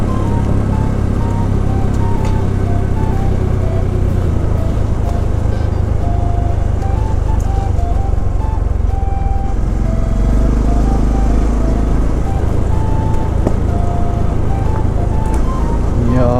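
A Honda CT125 Hunter Cub with off-road tires rides a paved forest road in autumn, its single-cylinder engine droning loudly and steadily up close with gentle pitch shifts throughout, plus wind rush.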